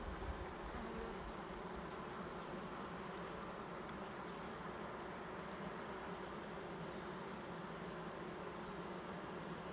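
Honey bees buzzing at a backyard beehive as a steady, dense drone that fills the whole stretch, close and continuous with no pauses.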